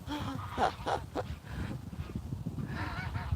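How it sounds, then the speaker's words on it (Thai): Ducklings run into the water near a pond while ducks or geese honk and call in short bursts. A voice talks faintly at times, and the setting sounds like an open outdoor area. "ดูลูกเป็ดนู่นนู่นนู่นนู่นนู่นน"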